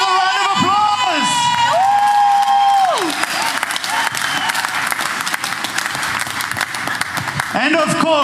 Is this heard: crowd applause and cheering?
yes